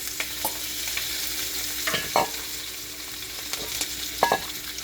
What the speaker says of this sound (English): So now I'm going to add the shrimp to the oil